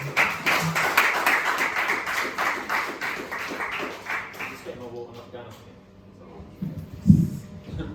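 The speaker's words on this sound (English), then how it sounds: "Give me a round of applause, ladies and gentlemen, for Mr. Gary Daly." Scattered audience clapping at a comedy open mic night in a Lewisham hotel, a small room's worth of hands beating steadily at moderate volume before tapering off, followed by a brief thump and quiet room noise.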